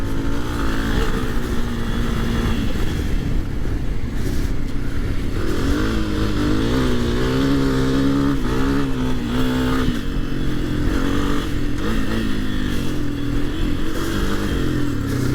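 A 2022 Honda CRF250F dirt bike engine drones continuously while being ridden, its pitch rising and falling as the throttle changes, loud and close throughout.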